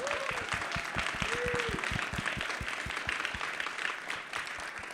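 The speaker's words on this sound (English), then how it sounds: "Let's give them a round of applause" An audience at a Tri-C JazzFest lineup reveal event applauds the presenting sponsor KeyBank, a sustained wash of clapping with a few brief tonal sounds early on and a faint voice mixed in.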